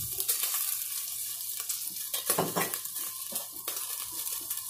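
A little oil hits a hot pot where chicken was just cooked for an encebollado, giving a steady, close sizzle mixed with soft scraping and stirring clatter.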